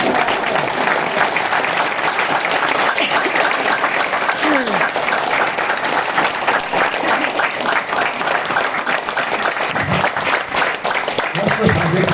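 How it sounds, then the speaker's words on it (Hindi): A large audience gives sustained, dense applause that runs without a break from start to finish, loud and full, with some voices mixed in. "आप आपकी ताली दिल खोल के बजा लीजिए"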